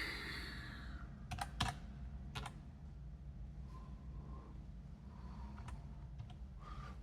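A computer keyboard is typed on in a few short, sparse bursts of clicks, fairly quiet against a steady background hum with no voices.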